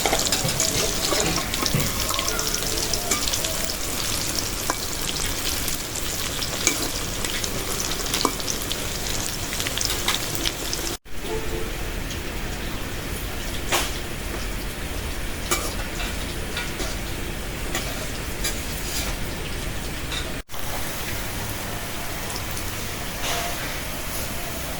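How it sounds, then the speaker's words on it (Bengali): Fritters (bora) frying in oil over a low flame, a steady dense sizzle that continues evenly throughout with faint kitchen clatter, while rain may patter in the background. "কম জালে বড়া ভাজলে ভালো মতো ভাজা হয় একদম কম জাল"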